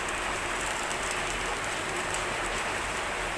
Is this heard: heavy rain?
yes